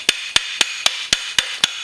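A brass hammer taps the end of an engine shaft during a Honda Fourtrax 300 ATV engine teardown, seven sharp, evenly spaced metallic knocks, close and loud with nothing else heard.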